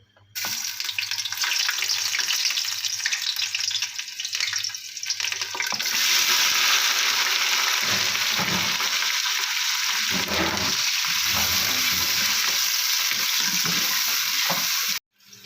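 Sliced onions hit hot oil with black cardamom in a pan. A quieter sizzle suddenly swells into a loud, dense, continuous frying hiss that lasts to the end, with no talking.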